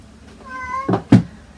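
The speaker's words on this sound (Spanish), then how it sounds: "Ese ha sido mi gato, no sé si lo habéis oído." A house cat gives a rising, drawn-out meow close by, followed by two sharp knocks like a cupboard or door bumping.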